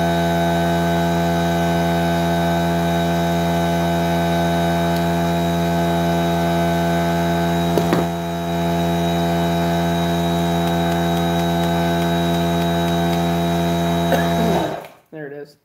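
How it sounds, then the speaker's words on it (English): An air compressor running: a loud, steady motor drone with a strong tonal hum that holds for about fifteen seconds, briefly dips midway, then shuts off abruptly near the end. "it takes a little bit for that air compressor to kick off."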